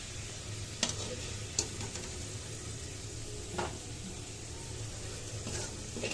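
Potato slices frying in a home pan produce a quiet, continuous sizzle, broken by a few sharp scrapes or taps of a spatula against the metal.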